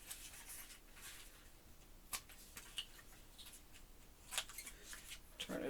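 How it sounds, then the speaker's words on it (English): Scissors cut paper pieces for a handmade fairy garden mini album, giving a few faint, sharp snips and rustles spaced apart, quiet and close. "I'll cut these."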